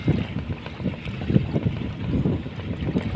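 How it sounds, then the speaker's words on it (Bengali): A fishing trawler moving on a river in light rain on an overcast day, heard as a low, uneven rumble with wind buffeting the microphone and no talk. "ট্রলার ওটা মাছ ধরার জন্য"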